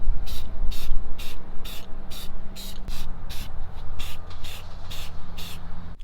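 A can of silver spray paint hissing in a regular series of short bursts onto a car steering wheel from a 170k-mile Mazda2, loud and close, with no talking.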